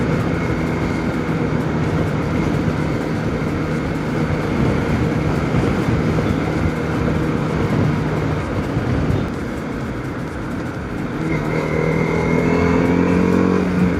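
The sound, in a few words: TVS RTX 300 motorcycle riding and accelerating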